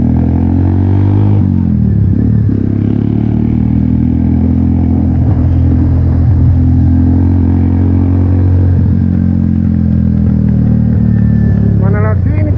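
1974 Triumph Bonneville T140V 750cc twin-cylinder motorcycle on a ride, its engine a loud, close, steady throbbing drone with shifts in pitch as it accelerates, plus wind and rider talk over it.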